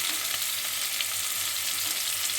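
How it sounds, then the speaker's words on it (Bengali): Large prawns (chingri) frying in a pan, an even, close, continuous sizzle with faint crackles and no talking over it. "এভাবে একটু ভেজে নিতে হবে"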